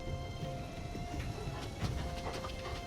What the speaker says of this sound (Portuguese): Olha o cão.